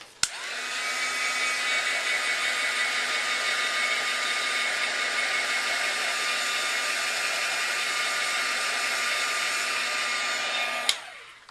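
A hair dryer runs steadily for about ten seconds, drying the painted background of a mixed media notebook, a loud continuous whine with a sharp click on and off at either end.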